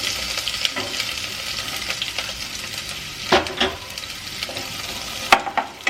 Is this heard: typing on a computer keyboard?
no